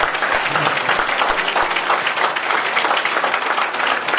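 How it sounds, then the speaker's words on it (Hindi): Crowd at a Karni Sena party workers' conference in Jharkhand applauding to welcome Vijeta Verma, dense and loud clapping that runs unbroken and even throughout. "तालियां बजाकर अभिनंदन करें"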